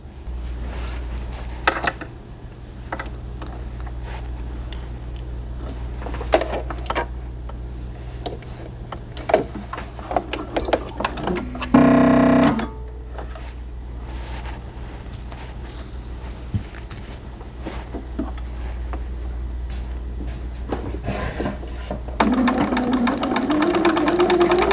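A sewing machine stitches a dart in small fabric doll pants. Its low mechanical hum runs throughout with scattered clicks and ticks and a short louder burst near the middle, and no voices are heard.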